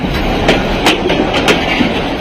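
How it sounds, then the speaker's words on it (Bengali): The slow Ramna local passenger train on the Chilmari route in Bangladesh rolls along slowly and loudly, wheels clacking over rail joints in an irregular rhythm, close by. "বাইসাইকেলের চেয়েও কম গতিতে চলাচল করছে রমনা লোকাল ট্রেন"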